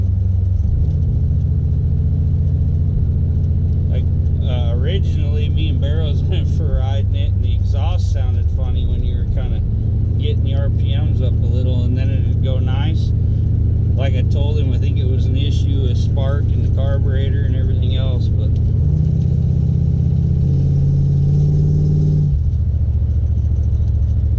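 A car fitted with an Edelbrock 4150 performance carburetor rumbles loudly and close, its engine revving and shifting pitch over a steady low drone while someone talks over it throughout.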